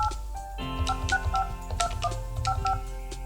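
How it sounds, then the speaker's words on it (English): Keys pressed on a Polycom VVX411 business phone produce a quick series of dual-tone dialing beeps, about a dozen short tones in an uneven rhythm over a low background hum. "I'm going to dial the number I want to conference in"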